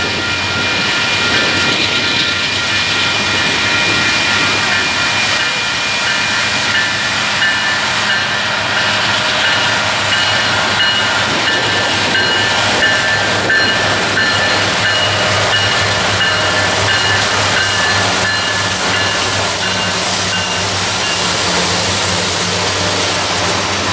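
Union Pacific eastbound manifest freight train passing, a long steady rumble of rolling railcars with a droning locomotive and faint wheel squeal throughout, no talking.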